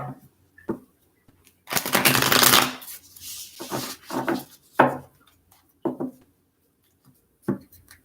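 A deck of tarot cards is shuffled in a reading, with a long riffling burst followed by scattered taps and short slides of cards, close and clear.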